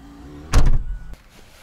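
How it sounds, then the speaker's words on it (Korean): A car's rear trunk lid shuts with a loud solid thunk and brief rattle, followed by a short lighter knock, close by in a quiet setting. "트렁크 닫을게요."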